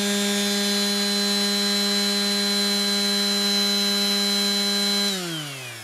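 A Parkside electric sander whines steadily with a strong buzzing hum, then powers down near the end, the pitch sliding lower as it winds off.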